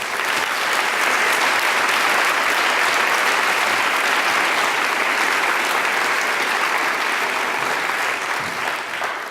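An audience gives sustained, dense applause welcoming speaker Andrew Solomon at a book festival, loud and even throughout.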